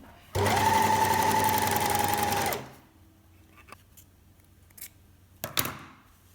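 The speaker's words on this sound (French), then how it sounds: "j'ai fait donc ma deuxième couture" A sewing machine stitches a seam in jersey fabric, running in a steady fast mechanical whir for about two seconds before stopping, followed by quiet handling clicks and light rustling.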